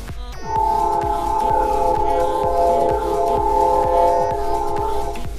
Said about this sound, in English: as you guys can hear, the train in the background